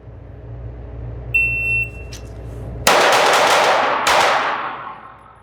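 A 5x5 pistol drill at a range: a shot timer beeps, then a loud, rapid string of pistol shots cracks out, a short gap, and a final shot rings off and fades.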